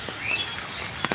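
An oriental magpie-robin (doyel) calls once among banyan, coconut and mahogany trees after rain: a faint, brief whistled note from a distance, followed later by two soft taps in a quiet outdoor setting.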